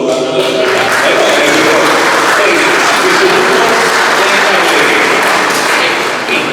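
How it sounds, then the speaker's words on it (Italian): Loud, dense applause from an audience at a national poetry prize ceremony in Ischitella, a steady wash of many hands clapping close by with some thumps mixed in, holding at full strength throughout. "facciamo un applauso"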